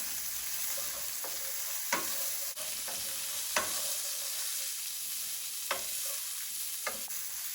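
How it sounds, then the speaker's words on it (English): Leeks frying in olive oil in a pan, an even hissing sizzle with several sharp spatula scrapes and taps spaced through it, no voices. "we're going to add leeks. And just fry these until they're kind of browning"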